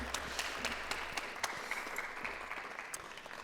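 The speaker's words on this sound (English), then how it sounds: "Yeah, big round of applause." An audience at a Seattle museum event applauds, a steady wash of clapping from many hands heard at a moderate distance for the full few seconds, without anyone speaking.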